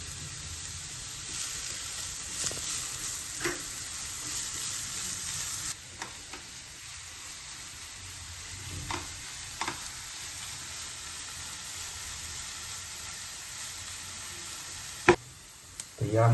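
Finely chopped onion fries in oil in a hot pan, a quieter steady sizzle with occasional stirring clicks and a few sharper knocks.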